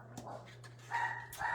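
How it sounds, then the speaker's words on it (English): A pet dog barks a few quick, faint yips from another room, distant and brief, over a steady low indoor hum. "that's one of my psycho dogs barking away"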